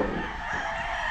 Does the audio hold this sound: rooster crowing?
yes